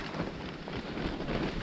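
Steady, buffeting wind blows outside a tent during a late-winter trek in the Lapland fells, a continuous close roar with no pauses and no voices.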